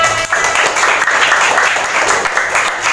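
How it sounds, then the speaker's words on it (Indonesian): An audience applauds after a presentation with a dense, steady burst of clapping that stays close and loud for the whole stretch. "Boleh tepuk tangan."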